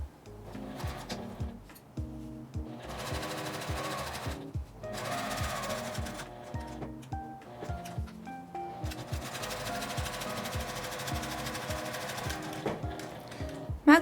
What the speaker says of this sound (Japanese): 返し口の真ん中あたりから端を一周縫います。